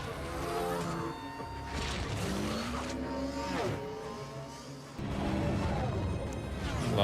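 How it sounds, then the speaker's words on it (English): Speeder bikes race through a forest chase in The Mandalorian, with whooshing, rising and falling engine whines and passing sweeps mixed into a dense score, loud and continuous throughout. "Oh, there's the speeder bikes."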